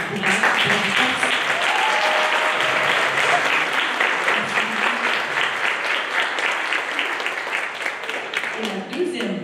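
A conference audience at a mental health event gives loud, dense applause that keeps going steadily for close to ten seconds, with a continuous wash of many hands clapping together.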